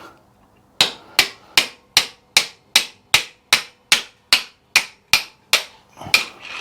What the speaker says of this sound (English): any of these bolts you see me smacking with the hammer